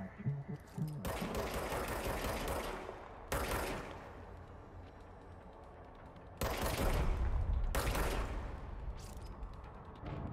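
The service weapon in Control fires in rapid bursts, giving dense rattling gunfire in several separate volleys with brief pauses between them, loud against low game ambience.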